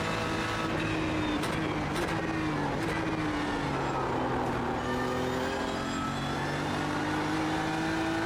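A GT3 race car in iRacing blasts down Conrod Straight at Bathurst, its engine holding a loud, steady high-revving drone that climbs through the gears for several seconds. No one speaks.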